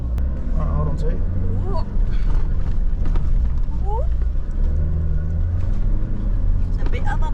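A car jolts along a bumpy bush fire trail near Yarrangobilly Caves, a constant loud engine and road rumble with knocks from the rough surface and a person talking over it.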